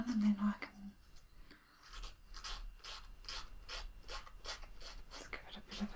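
A nail file scraping the edge of a polka dot nail strip, close and quiet, in a quick regular series of raspy back-and-forth strokes after a brief pause.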